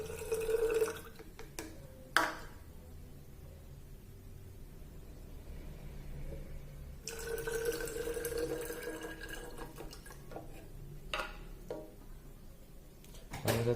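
Water is poured onto honey in a container on a tabletop, giving quiet trickling and splashing in two longer bursts with a few drips and clicks between them.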